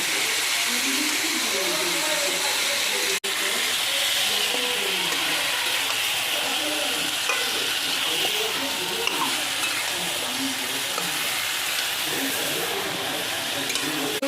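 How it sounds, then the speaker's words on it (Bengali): Mutton sautés in a pan over raised heat, a dense continuous sizzle and hiss held at an even loud level for the whole stretch, close up, with a single sharp tap early on and a faint voice underneath. "আঁচটা বাড়িয়ে দেবো এবার এবার ভালো করে মাংসটাকে কষিয়ে নিতে হবে"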